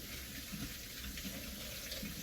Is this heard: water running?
yes